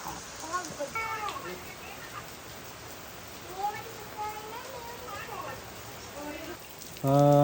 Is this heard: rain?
yes